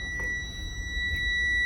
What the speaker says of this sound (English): our warning lights will stay on and our alarm will stay on